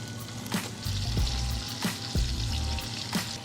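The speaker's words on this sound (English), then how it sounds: "I'll go ahead and just put this bacon in here" Beef bacon sizzling and frying in butter in a pan, a steady close crackle with a few scraping stirs and pops, no talking.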